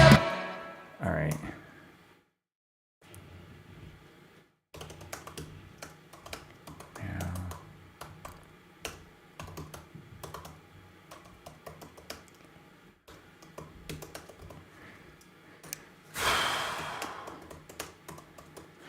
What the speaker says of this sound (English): I'm typing lyrics after I sang them.